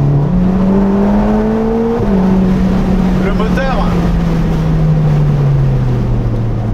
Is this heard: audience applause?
no